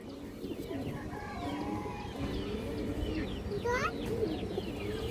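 Farm pigeons kept for sale coo in low throaty bursts, mixed with other fowl-like clucks and chirps close by, while a voice murmurs faintly in the background.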